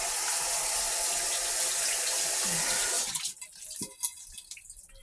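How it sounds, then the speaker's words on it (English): Water runs steadily from a kitchen tap during handwashing, a loud even hiss that cuts off about three seconds in, followed by a few faint drips and light clatters. "Just washing my hands there."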